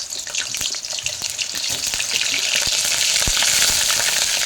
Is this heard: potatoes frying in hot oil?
yes